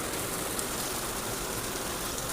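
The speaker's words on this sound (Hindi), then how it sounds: "इतनी तेज बारिश आ रही है जिसकी हद नहीं" Heavy rain pouring down in a dense, unbroken hiss, loud and close, with no voices over it.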